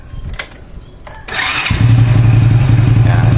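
A small engine used for a pulse tachometer RPM demonstration cranks and catches, then settles into a loud, steady, close idle with a rapid regular putter; faint talk precedes it.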